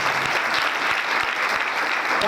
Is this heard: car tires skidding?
no